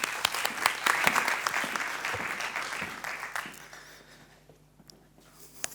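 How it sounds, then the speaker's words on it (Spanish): Audience applause at a symposium on forastera grapes and heroic viticulture, a burst of many clapping hands that peaks early, then thins out and fades to near silence with a few scattered claps. "Un aplauso."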